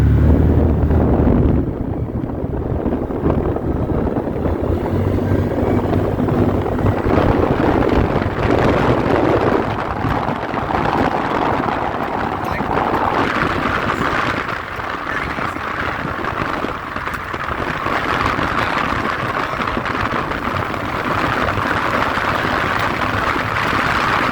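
A 2025 CFMoto U-Force 800 XL side-by-side driving down a road, a steady loud engine drone mixed with heavy wind rush over the microphone, continuous throughout with no talk.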